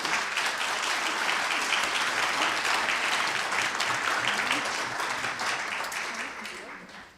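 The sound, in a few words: round of applause for the kids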